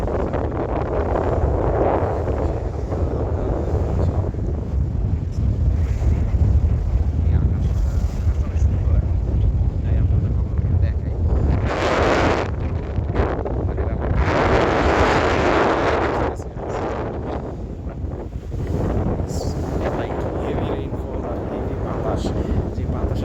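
Heavy rain and gusting wind on a passenger launch travelling from Dhaka to Bhola, a loud continuous roar with rumbling low wind buffeting, surging harder in bursts around the middle, while a person talks over it.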